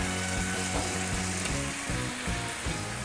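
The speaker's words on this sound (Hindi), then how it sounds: "हम अच्छी तरह से मिक्स कर देते हैं।" Pumpkin curry frying in a pan, a continuous loud sizzle with a low pulsing bubbling undertone as the vegetables are stirred and mixed, close up with no voices.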